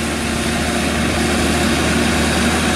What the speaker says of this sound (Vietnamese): nghe cái tiếng động cơ nổ rất là đã luôn